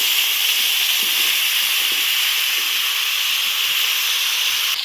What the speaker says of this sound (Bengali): তেল পুরো গরম হয়ে গেছে, ফুলকপি আলুগুলো তেলের মধ্যে ভেজে নেব